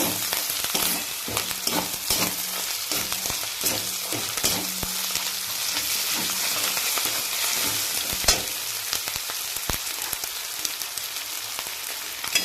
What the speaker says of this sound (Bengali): তো দেখুন পেঁয়াজ আর রসুনটা যে আমি ভাজছি